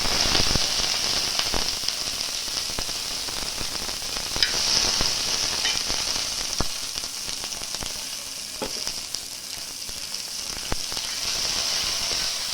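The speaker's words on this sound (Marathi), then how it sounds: "आता हे बघा हिरव्या मिरच्या कट केलेल्या ना त्या भाजून घेऊया" Chopped green chillies roast in a pan for a restaurant-style chicken gravy, giving a dense, steady close sizzle with crackling pops and occasional scrapes throughout, no voices.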